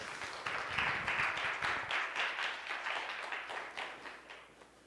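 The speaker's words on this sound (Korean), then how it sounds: "우리 목사님 나오실 때 박수로 맞이하도록 하겠습니다" A church congregation at a Sunday worship service applauds to welcome the pastor, a sustained patter of many hands clapping at moderate loudness that gradually tapers off, with no talk over it.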